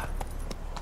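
Hooves of a horse clop in The Witcher 3, three quick muted strikes in under a second over a low background rumble.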